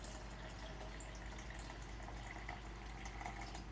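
Water pours steadily into a container in a sink while dishes are washed, a constant close splashing rush with faint bubbling and no talking.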